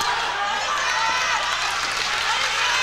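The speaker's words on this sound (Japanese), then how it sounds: "森翔に声援が飛んでいます" Loud, dense cheering from a 1997 JWP women's pro wrestling crowd backing a wrestler during a match, a steady roar filling the hall throughout.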